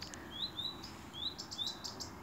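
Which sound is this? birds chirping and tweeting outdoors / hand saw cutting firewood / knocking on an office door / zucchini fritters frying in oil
birds chirping and tweeting outdoors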